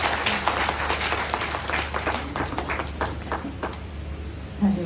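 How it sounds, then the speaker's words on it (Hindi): An audience at a HelpAge India event in Lucknow claps warmly in welcome, a steady patter of many hands with sharper individual claps scattered through it and a faint hum beneath. "जोरदार तालियों से स्वागत करता हूँ।"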